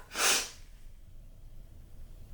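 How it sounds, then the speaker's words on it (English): A single sharp, breathy sneeze bursts out near the start and fades quickly, followed by near silence. "I'm gonna sneeze, right?"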